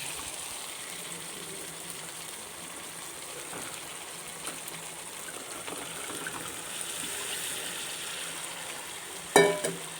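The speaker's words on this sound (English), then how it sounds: "I have mixed all the vegetables nicely in these home masalas" Potatoes, cauliflower and other vegetables stirred in masala in a pan, a steady soft sizzle with faint scraping of the spoon and one sharper clack near the end, no voices.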